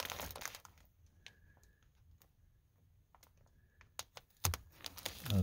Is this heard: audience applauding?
no